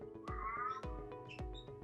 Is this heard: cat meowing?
yes